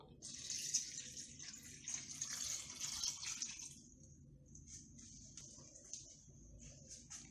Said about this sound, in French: Alors, je verse l'eau.